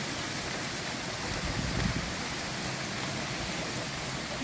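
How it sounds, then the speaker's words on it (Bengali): Rain and storm wind from Cyclone Remal: a steady, dense rushing wash that holds at a constant level throughout, with no one talking. "দেখেছেন কিরকম ঝড় হচ্ছে"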